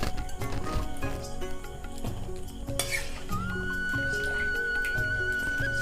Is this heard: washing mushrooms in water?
yes